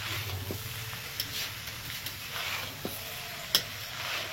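Bhuna chicken is stirred and mixed in a pan over a gentle sizzle, with several soft scraping strokes and one sharper knock of the spoon, close up and without speech.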